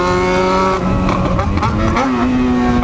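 A Volkswagen Jetta fitted with a Yamaha XJ6 motorcycle engine revs loudly and accelerates, its high-pitched whine rising, dipping at a gear shift and climbing again, close and continuous.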